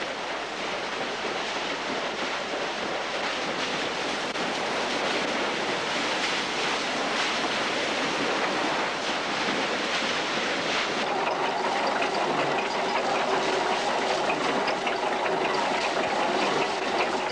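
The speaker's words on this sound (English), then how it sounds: "When the water is redirected through the open sluices on the water wheel, it gushes into the wooden buckets" Water gushes steadily through open sluices onto the wooden buckets of an old water mill's wheel, a loud, continuous rushing roar with no pauses.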